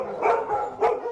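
Dogs barking, two quick clear barks close by, spaced under a second apart.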